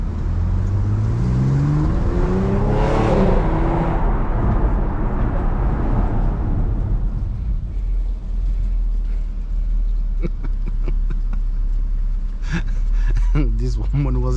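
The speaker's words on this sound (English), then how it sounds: "I'm gonna throw the gearbox in sport and open the windows and floor it down here" Audi S4 with the gearbox in sport mode and windows open, engine pulling hard at full throttle with a rising, sweeping roar that fades, then a quieter stretch with someone talking over the engine.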